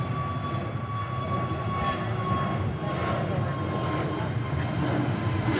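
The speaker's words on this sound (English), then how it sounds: "Right now it's Avianca with an A320neo taking off." An Avianca Airbus A320neo on its takeoff run, a sustained jet roar with a thin high whine layered on top, steady and fairly close, with a voice talking over it.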